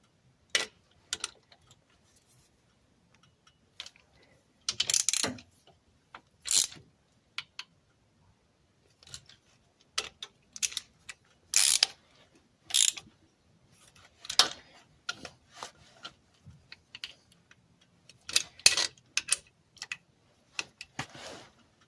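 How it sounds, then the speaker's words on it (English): A ratchet tightens screws on a 1998 Ram 1500 axle while U-joints and axle seals are serviced, producing scattered short bursts of quiet, close clicking with silent gaps between them. "these are just going to get tightened down"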